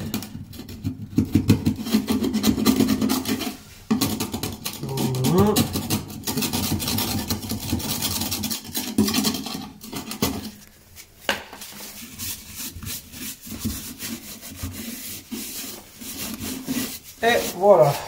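Residue is scraped off a toilet pipe joint while its seal is replaced, making close, repeated rasping and rubbing strokes with short pauses, and faint talk underneath.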